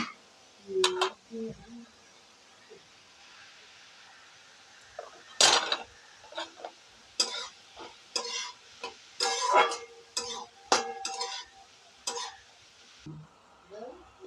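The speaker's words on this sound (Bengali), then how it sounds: "একটু ভালো করে নাড়াচাড়া করে নেব।" Pineapple chutney is stirred in a pan with a spoon, bringing irregular scrapes and clinks against the metal that come in short bursts with quiet gaps between them.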